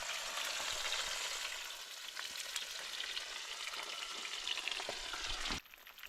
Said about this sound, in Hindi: बाकी की फ्राई हो रही है और ये फ्राई हो चुकी है।